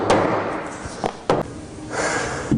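Hammer blows driving timber log boards into place on a log cabin: a handful of heavy, irregularly spaced thuds struck close by, with a dull knock between them.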